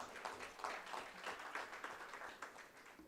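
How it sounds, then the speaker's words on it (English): Conference audience applauding at an MSME business event, a faint, steady patter of many hands clapping from a distance for about three seconds with no talk over it. "Can we have a big round of applause for him?"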